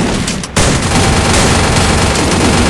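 Rapid, dense gunfire in a video game, loud and nearly continuous, with a short dip before the shooting surges again and keeps going.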